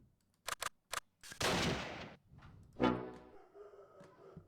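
Gunfire in the WW2 strategy video game Close Combat: a few sharp, isolated shots ring out in quick succession, then two louder rattling bursts that each trail off into a fading rumble in otherwise quiet surroundings.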